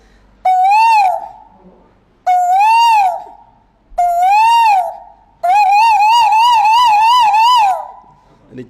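A voice imitates the call of a koel: three loud, separate, rising whistled notes with short gaps, then a longer warbling run of quick repeated notes, close and clear.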